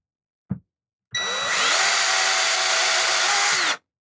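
A brief tap, then a power drill whirs loudly and steadily for about three seconds drilling out plastic on a 3D-printed light gun, its pitch dipping slightly under load before stopping.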